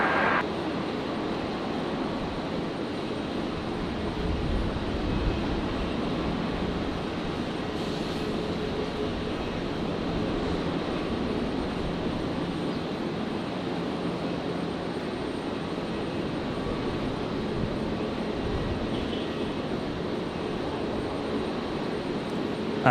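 A broad, steady engine roar from a plane landing on runway 01 left at Brisbane Airport rumbles continuously at a distance for over twenty seconds, with no voices over it.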